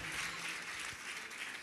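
A church congregation at a Telugu sermon claps briefly, a soft, even wash of applause that is faint and short.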